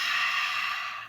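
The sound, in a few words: exhaling breath during Kundalini yoga breathing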